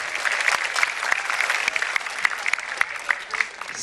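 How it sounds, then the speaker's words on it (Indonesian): Lively applause for Kiai Maman from an audience, a dense wash of clapping with sharper individual claps standing out, fairly loud and steady for a few seconds. "beri tepuk tangannya meriah untuk Pak Kiai Maman"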